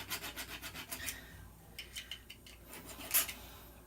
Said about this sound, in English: I want to be able to look at the actual piece I'm filing